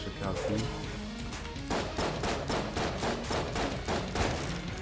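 Explosions and rapid bursts of gunfire in the Enter the Gungeon video game, a series of sharp cracking blasts in quick succession, loud and close, with a voice talking over them.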